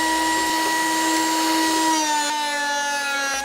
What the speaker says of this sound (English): I took it over to the joiner for a couple of passes